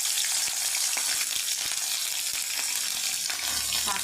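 Two cardamom pods and onion paste fry in a kadai for a rohu fish curry, giving a continuous loud sizzle and crackle with scattered scraping taps from stirring.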